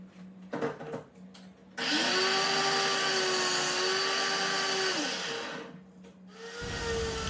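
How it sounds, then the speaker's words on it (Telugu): A mixer grinder blending carrot into a paste starts with a loud whirring roar, runs steadily for a few seconds, winds down, then briefly spins up again. "ఇది మనం మిక్సీ పట్టుకొచ్చుకుందాము"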